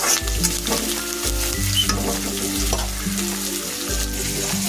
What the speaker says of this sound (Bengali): এখন আমি কারি পাতা টমেটো পেঁয়াজ ভালো করে একটু ভেজে নেব